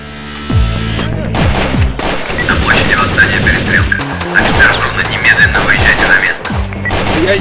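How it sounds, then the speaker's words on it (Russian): Rapid bursts of gunfire in a police shootout ring out almost without pause, loud and close, over a busy music-like background. "Что у вас за стрельба?"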